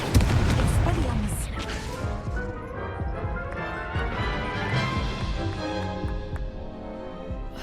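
Incendio fire spells cast in combat in the video game Hogwarts Legacy, with loud crashing bursts and booming impacts in rapid succession amid battle noise, voices shouting over them.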